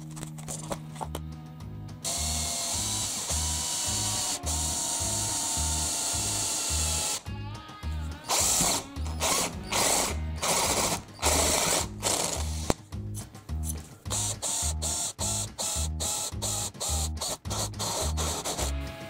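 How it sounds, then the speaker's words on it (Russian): A large step drill bit bores through metal for a bearing project, a loud close whirring power drill that runs continuously, then stutters in short on-off bursts as the trigger is pulsed. "Сейчас я покажу, как оно сверлит."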